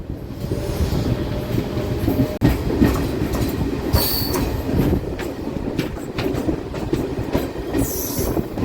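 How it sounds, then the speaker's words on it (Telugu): A DEMU passenger train runs at speed on the Nandyal–Kurnool line, giving a steady, loud rumble of wheels on rail with clattering joints and brief high squeals, heard from inside the coach with no talk. "మన ట్రైన్ ఉల్లిందకొండ రైల్వే స్టేషన్ నుంచి బయలుదేరిపోయిందండి"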